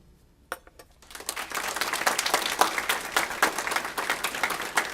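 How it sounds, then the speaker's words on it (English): An audience at a university dedication ceremony breaks into applause, dense clapping that swells quickly after a short pause and holds strong to the end. "Dr. Markarian, today we applaud you."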